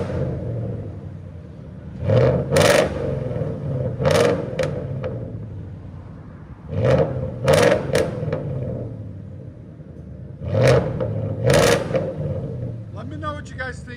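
A 2017 Ford F-150 with a 5.0L Coyote V8 and straight pipes revs three times in sharp bursts, each with a rising roar and crackle, settling back to a loud rumbling idle in between.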